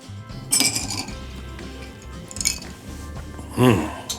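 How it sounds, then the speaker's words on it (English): A cocktail topped with ice and club soda is stirred in a glass, giving bright clinks of ice and spoon at irregular moments over a faint fizzing hiss, close and fairly loud. "Stir a little more, and garnish with a lemon wedge."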